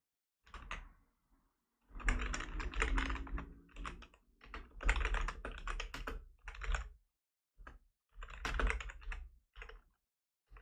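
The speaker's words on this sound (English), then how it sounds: "You can probably hear me typing right now" Bursts of rapid clicking come from typing on a computer keyboard nearby, loud clustered runs of keystrokes broken by short pauses, with no speech over them.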